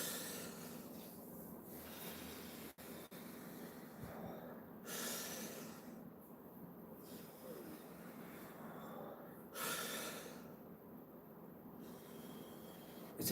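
Deep rhythmic Wim Hof style breathing, a series of forceful inhales and exhales roughly every two to three seconds, close and audible over a low background hiss.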